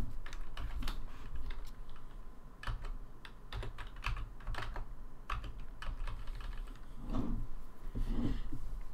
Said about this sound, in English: Is he typing?